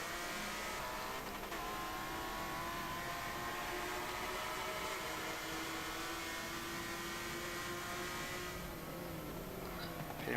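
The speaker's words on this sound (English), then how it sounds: "Pretty much racing in formation at the moment." Engine noise from BMW M3 race cars running in close formation on a circuit, a steady dense drone of several engines with shifting harmonic whine, heard at a distance throughout without pause.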